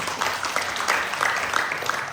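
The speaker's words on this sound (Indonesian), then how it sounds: "Tepuk tangan buat Tuhan." Clapping from a church congregation during a worship service, a continuous brisk patter of many hands at moderate volume, slightly distant.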